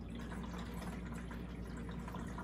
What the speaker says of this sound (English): as I pour water in here